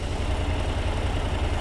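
A Honda NC750X motorcycle engine runs with a steady, throbbing low rumble at close range, loud and continuous with no talk.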